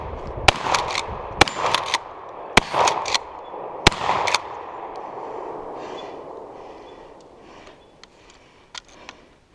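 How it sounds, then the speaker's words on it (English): Remington 870 20 gauge pump action shotgun fired at a range: several sharp, loud blasts about a second apart, each with a short ringing tail, followed by quieter clicks and handling noises as the shooting stops. "the Remington 870 20 gauge pump action shotgun"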